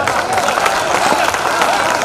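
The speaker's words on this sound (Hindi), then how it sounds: "ये तालियों का घनत्व धीरे धीरे बढ़ेगा" An audience at a Hindi poetry recital of veer rasa verse claps after a patriotic stanza, a dense, steady wash of many hands mixed with faint crowd murmur, loud and close throughout.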